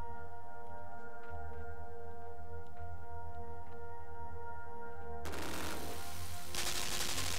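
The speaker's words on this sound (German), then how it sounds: "Also da unten ist eine Kanone und da oben auch." A cannon fires in the video game Limbo, one sudden loud burst of noise after a quiet stretch of low ambient hum, followed by a second harsh blast.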